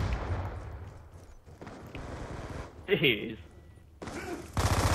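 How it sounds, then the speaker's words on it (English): Shotguns fire in Call of Duty Black Ops 2 multiplayer. A few loud, punchy blasts come in separate bursts among game effects, and a voice is briefly heard talking. "These shotguns do not miss today, that's for sure."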